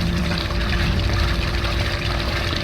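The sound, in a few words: water flowing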